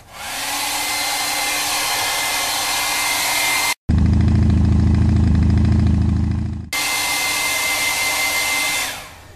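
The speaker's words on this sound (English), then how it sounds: "I need to dry those letters." A hair dryer blows steadily to dry freshly painted letters, a loud continuous whoosh with a brief cut and a louder, deeper stretch in the middle before returning to its even hiss.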